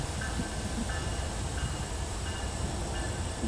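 A CSX freight train rolls over a repaired washout section of line, a steady loud rumble of wagons with faint repeating wheel clicks, close by and continuous with no voices.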